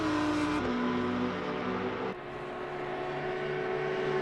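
GT4 race cars lapping Monza in a racing video game, with a steady engine drone whose pitch shifts as cars change gear and pass, one car's note dropping abruptly partway through.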